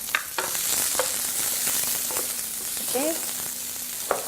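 Onions sizzle in hot oil with ginger and garlic, a steady broadband frying hiss with a few sharp spatula clicks and scrapes against the pan; a brief spoken word cuts in near the start.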